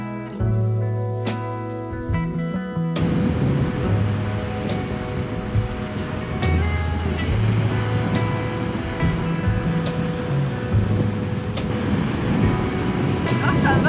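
Ocean waves wash onto the beach at Noirmoutier in a constant broad roar of surf, preceded by a few seconds of music that lingers faintly beneath the water.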